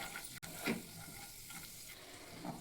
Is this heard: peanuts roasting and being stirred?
yes